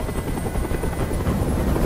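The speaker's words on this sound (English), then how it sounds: "Tell that helicopter to get out of here!" A helicopter hovers close by in the video game Detroit: Become Human, its rotor chopping in a loud, continuous, rhythmic throb with no pause.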